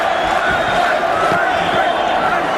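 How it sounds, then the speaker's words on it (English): A boxing arena crowd roars and shouts during the Mike Tyson vs James 'Quick' Tillis fight, a loud, constant wall of voices with a commentator talking over it. "Now the crowd begins to implore Tyson"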